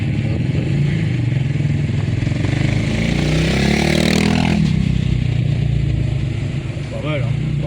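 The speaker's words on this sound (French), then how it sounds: "Petite moto derrière." A small motorcycle revs and passes close behind on a winding mountain road at Cilaos with its 400 bends, its engine note climbing then fading over continuous road and engine noise, with people talking.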